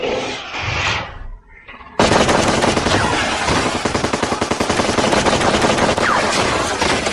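Movie machine gun fire: after a brief quieter moment, a loud, dense, continuous stream of rapid shots bursts in and keeps pounding steadily to the end.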